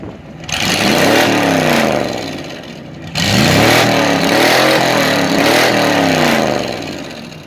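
A loud 1986 Ford Thunderbird engine with straight-pipe exhaust revs hard twice, the exhaust roaring and rasping as pitch climbs and falls, with a short drop between the two bursts.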